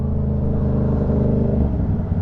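Yamaha MT-07 motorcycle engine running close by, a steady loud low rumble with a deep throaty idle and slight revving throughout.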